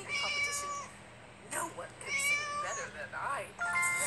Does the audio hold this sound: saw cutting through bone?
no